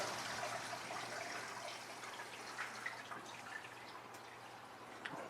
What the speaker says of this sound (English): Oh, she just flushed the toilet.